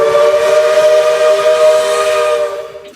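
RO-Scale American steam locomotive whistle sounding one long, loud, harmonically rich blast with a breathy hiss, held steady for nearly three seconds before trailing off.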